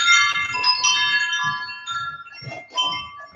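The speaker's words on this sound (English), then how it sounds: "Can you hear my wind chime?" A wind chime hanging outdoors rings in a cluster of overlapping metallic tones that strike and fade irregularly, with soft low background rumble.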